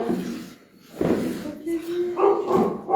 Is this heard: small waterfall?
no